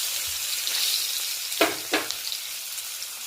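Chopped onion fries in oil left over from frying fish, a steady close sizzle punctuated by two sharp clattering stirs midway.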